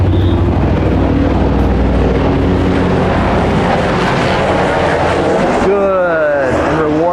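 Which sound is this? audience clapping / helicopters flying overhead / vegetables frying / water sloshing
helicopters flying overhead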